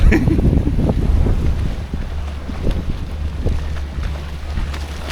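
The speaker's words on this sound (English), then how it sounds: "it's a bit windy" Steady wind buffets the microphone on a fishing boat off the beach, a constant low roar with gusty rumbles and faint water noise underneath.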